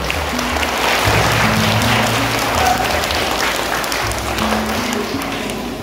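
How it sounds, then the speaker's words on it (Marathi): Students at a school prize-giving ceremony applaud loudly and steadily to welcome prize winners, a dense, sustained wash of clapping from a large crowd that swells slightly and continues throughout. "सर्व विद्यार्थ्यांना विनंती आहे की आपण देखील जोरदार टाळ्या वाजवून यांचं स्वागत करावं"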